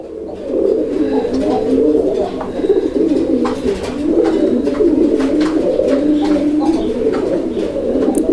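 A male Bombay pigeon coos repeatedly in a low, rolling rhythm, close and steady, with other birds chirping faintly around it.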